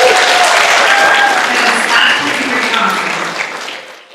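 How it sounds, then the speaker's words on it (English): Audience applause at an Indigenous education conference, loud and dense from the start, then thinning and fading out over about four seconds. "why don't you all give yourselves a round of applause for being here?"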